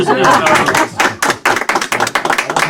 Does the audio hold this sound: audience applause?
yes